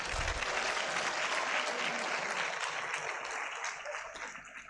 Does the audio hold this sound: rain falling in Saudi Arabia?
no